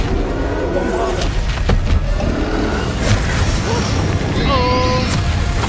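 In Hogwarts Legacy, Confringo and Bombarda spells go off as dull booms and blasts among game effects, with a voice shouting over them.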